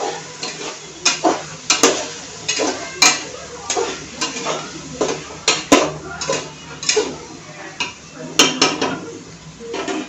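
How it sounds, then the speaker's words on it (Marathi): A spoon scrapes and clinks against a pan as spices are stirred and sautéed with tomato for chhole bhaat, cooked in a pressure cooker; irregular sharp metallic taps over a low sizzle, close and fairly loud, with no talking. "आता आपण हे मसाले ह्याच्यात टाकायचे आहेत जे मी तुम्हाला मगाशी दाखवले होते आणि हे मसाले पण आपण परतून घेऊ."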